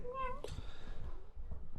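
A pet cat gives a short rising meow with a clear tonal pitch at the very start, followed by quieter indoor background sound and faint murmuring of voices.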